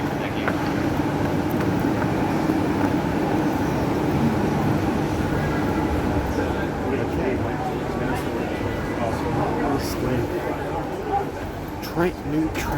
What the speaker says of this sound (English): New Transperth C-series. Train.